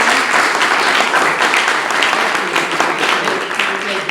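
Audience applause for two guest speakers at a talk, a dense, steady clapping that fills the room at full volume without a pause.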